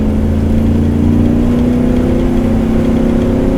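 A 1969 AMC Rambler wagon hot rod engine pulls in second gear as a loud, close, steady drone with a slowly rising pitch. No one speaks.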